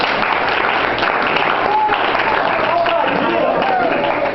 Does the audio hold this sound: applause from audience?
yes